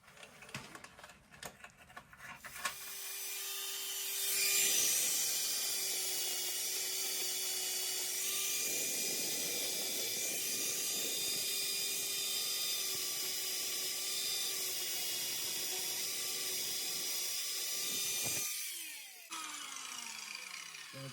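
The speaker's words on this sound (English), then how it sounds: "Got to clean it up with a flat disc now." An angle grinder with a flap disc sands a trimmed BMW fender, a loud, steady high-pitched whine that spins up, holds for about fifteen seconds with shifting grinding texture, then winds down, with clatter before and after.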